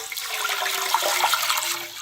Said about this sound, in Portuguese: vamos começar então colocando 1 litro de água aqui na nossa panela.